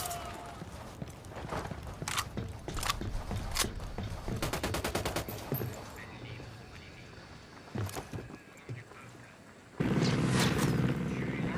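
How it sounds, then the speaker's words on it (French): Gunshots in Ghost Recon Wildlands, several sharp separate shots and a quick rattling burst over steady game ambience, ending in a louder rumbling stretch. "Je vais tirer."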